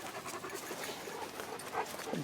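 Dogs panting steadily up close at a cabin, a continuous breathy rhythm with a faint whimper near the end.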